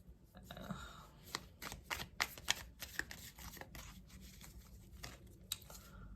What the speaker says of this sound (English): You saw me shuffle, right?